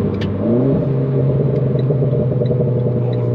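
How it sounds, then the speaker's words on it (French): Renault Clio 4 RS Trophy with a freer exhaust line, heard from inside while driving: a loud, resonant engine drone with a pitch drop at a gear change and faint pops crackling above the steady rumble. "Oh le petit pop là avec la ligne. Incroyable le passage de rapport."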